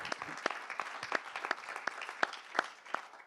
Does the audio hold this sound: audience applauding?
yes